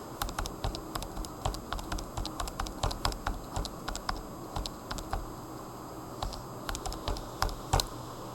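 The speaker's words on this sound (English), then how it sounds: "Keep typing in all of your data." Keys on a calculator are pressed steadily while data is entered, giving quick close plastic clicks in an uneven, continuous tapping rhythm.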